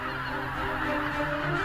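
Geese honking in the Biebrza Valley marshes, a steady chorus of overlapping calls that continues without a break at moderate loudness, with no voices.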